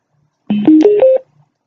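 A Bluetooth speaker plays its power-on notification: four short rising electronic tones in quick succession, loud and clean against silence.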